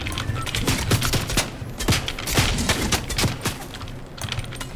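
Rapid gunfire in a Fortnite match, dense bursts of sharp cracks and automatic fire crowding together without a pause, fairly loud and continuous.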